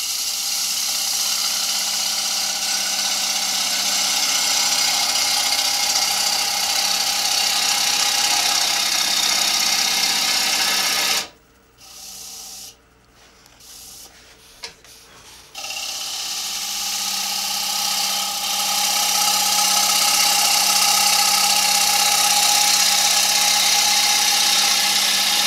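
A wooden bowl turned on an electric lathe while a small gouge shapes the rim: a loud, steady motor hum with a continuous cutting hiss that drops out for a few seconds and then resumes.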